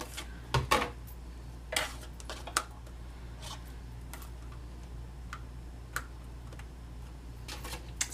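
A Big Shot die-cutting machine cuts cardstock with a scallop-edge die, giving sharp cracking snaps. A few louder cracks come early, then scattered fainter clicks and ticks over a quiet background hum.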